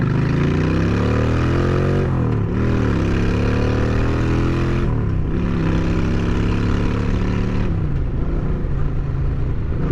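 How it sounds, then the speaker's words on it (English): A loud motorcycle engine idling and revving close up, its deep droning tone rising and falling in several long sweeps over a steady rumble, with no talking. "Coming from a sport bike, this bike's so loud, but it barely moves"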